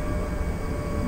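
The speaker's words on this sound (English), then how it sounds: "Slowing down the train." A London Underground Northern Line train rumbles inside the carriage as it slows, a steady low droning whine with a faint tonal hum, continuous over a short moment.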